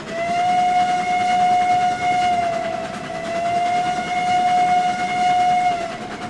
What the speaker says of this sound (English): This sweet sound of the whistles in the canyons.